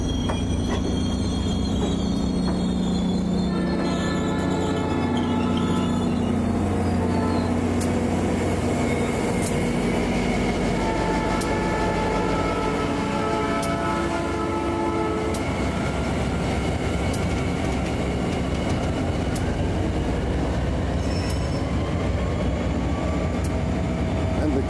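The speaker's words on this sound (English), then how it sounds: "The locomotive." Locomotive train rolling along a railway, with a continuous loud rumble of wheels on track, rising and fading tonal squeals, and metallic rattling throughout.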